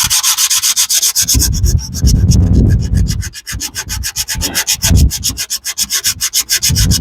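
Steady, rapid back-and-forth strokes sanding rust off metal, scraping loudly and close up, a rough rhythmic rasp with no talking.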